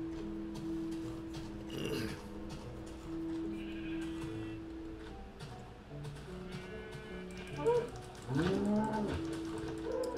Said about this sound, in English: A cow! There's a cow over there.